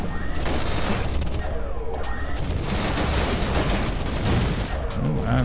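Rapid auto cannon fire from a spaceship in the space shooter Everspace 2, a dense, steady barrage of booming shots running throughout over game music and effects.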